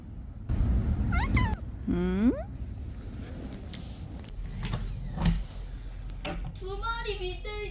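A stray cat meows several times with rising and falling cries, close and clear, over a steady low hum of background noise at a riverside campsite with vintage caravans, while people talk nearby.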